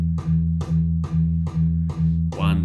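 Six evenly spaced palm-muted chugs on an electric guitar in a metal rhythm, one quarter-note hit per beat in 4/4. Each is a short, heavy low attack followed by a brief sustain, close and loud.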